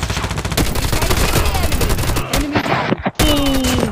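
Mac-10 submachine gun bursts in a video game, rapid loud rattling volleys that repeat almost continuously with a brief gap near the end.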